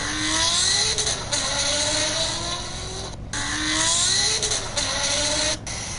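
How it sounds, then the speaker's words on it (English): Porsche GT3 RS engine in The Crew Motorfest racing game, revving high and loud through rising gears with brief drops between shifts, sustained and close with no talking. "Let's hear a real GT3 RS."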